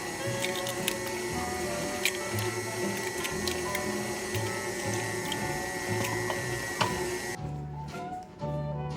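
An electric mixer beats cream cheese pound cake batter as eggs are added. It gives a steady mechanical whir with faint ticks and clicks, then cuts off near the end.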